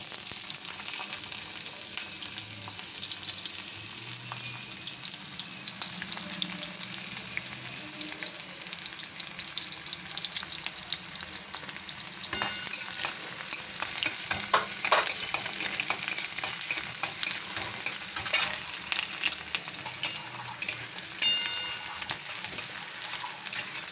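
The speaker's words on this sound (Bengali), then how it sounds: "তেল দিয়ে আমি একটু পেঁয়াজ দিলাম," Chopped onion frying in hot oil in a wok while banana-flower chops are being prepared: a loud, continuous crackling sizzle with occasional scraping and stirring, close by and without speech.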